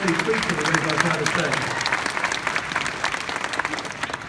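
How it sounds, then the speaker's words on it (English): A large crowd at SeaWorld Orlando applauds steadily, dense clapping holding at an even level throughout with no pauses. "Let's have a round of applause for companies that practice what they preach"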